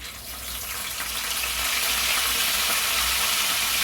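Half a spoon of cumin seeds and a sprig of curry leaves sizzling in hot oil for a tindora fry curry, a steady close hiss building slightly and holding with no talk.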